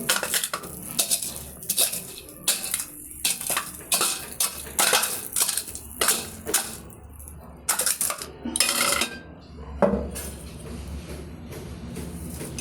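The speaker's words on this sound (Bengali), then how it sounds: "দেখুন গরম বড়িটাকে আমি নোড়া দিয়ে গুঁড়ো করে নিলাম।" Hot fried lentil dumplings (bori) being crushed with a grinding stone, repeated hard clacking and grinding knocks of stone on stone at an uneven rhythm, close and crisp, with a clatter of kitchen dishes.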